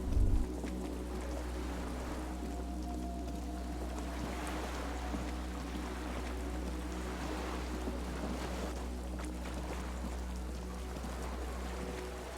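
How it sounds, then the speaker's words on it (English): Waves lap at a dock where a skiff sways, in the game Disco Elysium. The sound is a constant low, soft wash of water and wind with a faint steady hum beneath, alone throughout. "The skiff is swaying on the waves by the dock."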